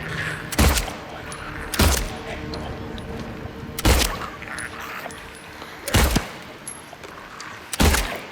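Five loud gunshots ring out at irregular intervals in Silent Hill 2 Remake, each a sharp booming crack over a low murky game ambience, with a voice talking faintly between shots.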